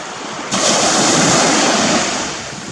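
Ocean surf washes up around a blue heron's feet, a steady broadband rush that swells louder after a moment and eases off again, with no voices over it.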